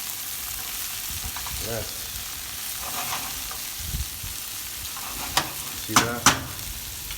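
Lemon garlic butter chicken sizzles and fries steadily in a pan, a continuous crackle running underneath while a person speaks briefly, with a few sharper utensil clinks near the end.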